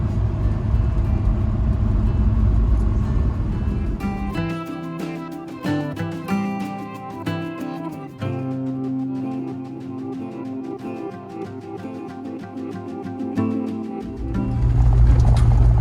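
A roughly 30-year-old Land Rover Discovery heading off-road into Virginia woods; a loud, low engine drone opens and closes the stretch, with a busier middle section of rattles and tonal whine.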